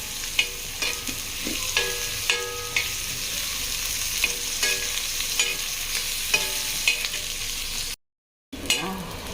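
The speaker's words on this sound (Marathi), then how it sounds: "तर हे चांगलं पकू देऊ मस्त, असं छानपैकी मस्त लालसर होऊ देऊ मस्त कांदा." Onions fry in a pan, cooking until reddish, giving a constant close sizzle broken by repeated clinking stirs of a utensil against the pan.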